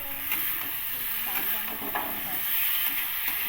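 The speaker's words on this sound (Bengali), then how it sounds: "কষিয়ে নিচ্ছি, একদম ভালো করে কষিয়ে নিচ্ছি।" A vegetable curry being sautéed and stirred in a pan, a close bubbling sizzle broken by rhythmic scraping strokes of a spoon, continuous and moderately loud, with no one speaking.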